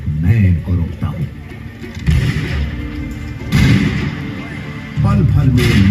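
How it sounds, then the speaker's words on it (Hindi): Gunfire effects from a night light and sound show at Chandrashekhar Azad Park in Prayagraj, dramatizing police firing on Azad: loud booming bursts at intervals, interleaved with narration and music. "पल भर में नॉट बावर ने आजाद पर गोलियां बरसानी शुरू कर दी।"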